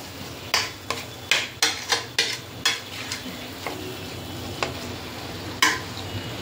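Spice masala roasting in ghee while stirred with a spoon for a one-kilo batch of veg biryani, a soft sizzle under a series of sharp, uneven scrapes and clinks against the pot, sparser toward the end.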